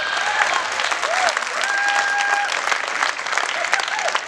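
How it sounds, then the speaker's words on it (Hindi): An audience at a Hindi poetry recital claps steadily and densely throughout, a close, even wash of applause with a few faint tones mixed in. "आप बहुत अच्छी तालियां बजा रहे हैं भाई साहब"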